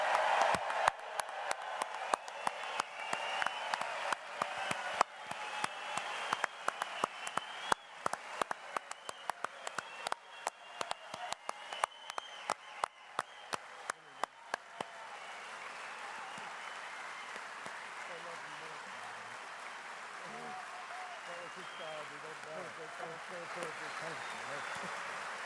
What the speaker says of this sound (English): I need you to clap, cheer, yell,